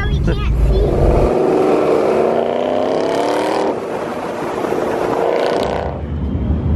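A Ford Mustang engine revs hard during a burnout at a car meet, rising in pitch, dipping, then climbing again, loud and close with crowd noise and voices around it.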